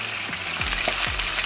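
Burger patties fry in a pan with a steady, dense sizzle up close, broken by a couple of soft low knocks.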